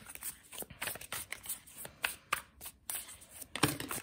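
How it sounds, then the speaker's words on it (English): A deck of playing cards shuffled by hand several times, a run of crisp riffling bursts and soft slaps at close range, with no talking over them. "I have to shuffle a few times to be sure the card is kind of reincorporated in there"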